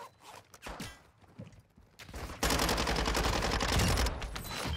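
Gunfire in the video game DMZ: sparse clicks and scattered shots, then from mid-clip a dense, loud, continuous burst of automatic fire that keeps going to the end.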